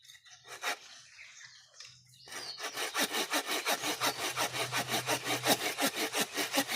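A small hand saw cuts through a small tree trunk. A few hesitant strokes give way to steady, rapid back-and-forth rasping that grows louder and more regular, heard up close.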